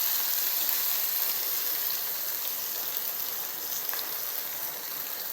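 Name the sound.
onions and curry leaves sautéing in a pan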